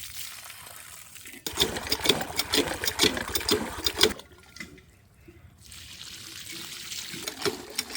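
Water is poured into a bucket in a rural field setting, a loud splashing gush that runs for about three seconds, then stops, followed by quieter trickling and background noise.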